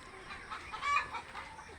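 Chickens clucking at a poultry farm in Fulbari, Dinajpur, a soft continuous flock murmur with a slightly louder burst near the middle, moderately distant and fairly faint.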